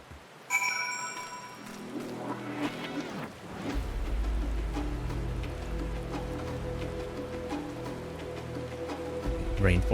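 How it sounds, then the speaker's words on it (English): Rain falls steadily in a rainforest area of Final Fantasy XIV, with a rumble of thunder early on and a low, continuous downpour afterward, faint and alone. "I think it's just a coincidence that it's raining here."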